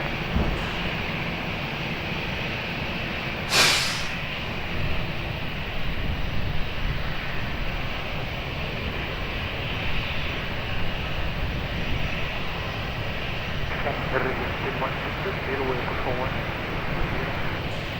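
An airplane at Lisbon Airport on approach to runway 20 makes a continuous, broad engine roar that holds steady throughout, with radio voices talking over it.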